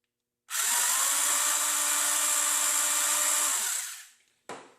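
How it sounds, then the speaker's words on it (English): A power drill whirs steadily, close and loud, for a few seconds as it bores a hole, then winds down, followed by a brief clack. "drilling the first hole."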